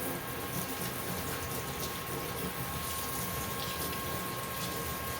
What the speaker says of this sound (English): one more rinse of my hands.